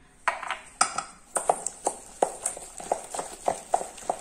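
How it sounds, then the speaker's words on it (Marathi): Rhythmic clinking of a whisk or spoon against a bowl while dahi vada batter is beaten, a steady series of sharp metallic taps at close range. "हे चांगलं मिश्रण फ्लफी होईपर्यंत आपण फेटून घेणार आहोत"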